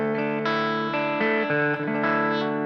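Clean electric guitar chords through a stereo two-amp setup ring out with a wide, shimmering chorus and soft tape echo repeats trailing into room reverb, steady and fairly loud.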